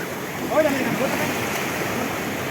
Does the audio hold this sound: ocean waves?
yes